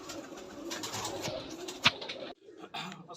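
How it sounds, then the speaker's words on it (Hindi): Soft, low pigeon coos sound faintly amid a murmur of background noise, with a brief sharp click partway through. "ठीक है जी, 100 से ज़्यादा कबूतर हैं"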